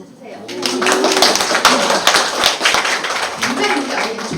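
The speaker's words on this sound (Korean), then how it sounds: "박수 주세요" Loud, close applause fills a hall at a business presentation, a dense, continuous patter of many hands that sits under a voice talking throughout.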